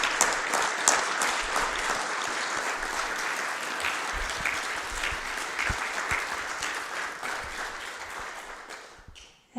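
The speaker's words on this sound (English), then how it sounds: "give a big applause" A crowd at a temple dharma talk applauding, dense clapping that holds steady then tapers off toward the end.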